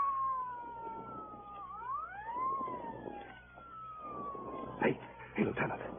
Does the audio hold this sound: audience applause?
no